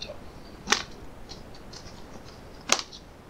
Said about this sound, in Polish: Muszę przygotować nożyczkami.